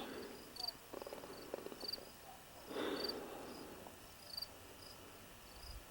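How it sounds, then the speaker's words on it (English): Crickets chirp outdoors in the New Mexico countryside at sunset, a faint repeated high chirping pulsing steadily, with quiet voices and some low noise nearby. "I can hear crickets out here, Hal."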